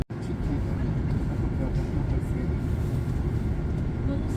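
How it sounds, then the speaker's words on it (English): A train pulling out of the old Kuala Lumpur railway station, heard as a steady low rumble and rolling drone from on board, constant and moderately loud throughout. "This is Kuala Lumpur train station we're just pulling away from."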